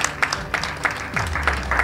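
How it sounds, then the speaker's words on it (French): Scattered applause from a youth gathering in Cavally, with sparse claps coming in loose bursts over a low background hum. "je veux qu'on applaudisse encore une fois"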